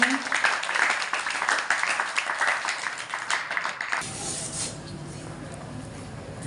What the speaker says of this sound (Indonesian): Teman-teman boleh tepuk tangannya.